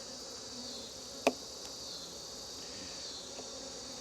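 Honeybees humming steadily at low volume during an open hive inspection in late August, with a single sharp tap cutting briefly through the drone.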